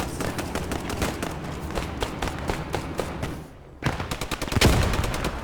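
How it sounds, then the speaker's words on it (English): Bursts of automatic rifle fire crackle in a World War II tactical shooter, fast repeated shots sweeping along a bridge with a brief lull before a heavier, louder volley, dense and close with no talk. "Let's keep up that automatic rifle fire along the long axis of the bridge and just sweep the vegetation"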